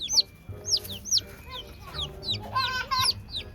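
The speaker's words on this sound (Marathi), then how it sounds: "हे बघा चिकनची पिल्लू" Village chicks peep in high, rising chirps while a rooster and hens cluck low underneath, all close by in quick overlapping bursts.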